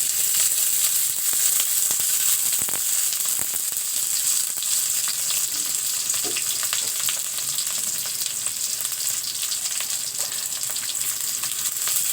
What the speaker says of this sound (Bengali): কাঁচামরিচ পেঁয়াজ দিয়ে দিলাম কড়াইয়ের মধ্যে। এবার আমি সরিষার তেল দিয়ে দেব।